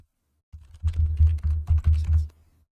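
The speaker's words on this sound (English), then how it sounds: "If I can finish typing them in." Typing on a computer keyboard while entering data points for a heap sort program, a run of close, fairly loud key clicks and clatter in uneven bursts lasting a couple of seconds, with no talking.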